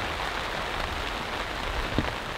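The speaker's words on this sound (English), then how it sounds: "it's raining quite hard at the moment" Heavy rain falling on an Alps Mountaineering Stealth 1 bivy tent, a dense, steady hiss of drops drumming on the fabric, loud and constant with no pauses.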